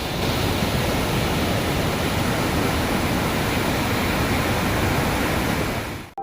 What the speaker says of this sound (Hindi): अब देखिए, गुरुद्वारे को पार करके यह नदी फिर से शोर डालने लगी।